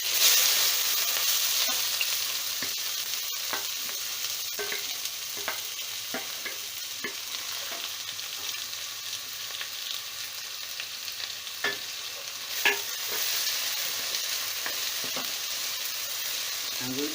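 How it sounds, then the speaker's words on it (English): Green chilies and onion sizzle steadily in hot oil while being stirred for a Punjabi makhi dal. A constant frying hiss runs throughout, broken by repeated scraping clicks of the stirring utensil, close and moderately loud. "I'm going to put the green chilies, going to add the onion"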